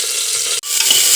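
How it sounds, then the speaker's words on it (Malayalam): Mustard seeds frying in hot oil in a pressure cooker make a loud, close, hissing sizzle with fine crackling. A brief break comes midway before the spitting resumes. "കടുക് പൊട്ടി വരട്ടെ."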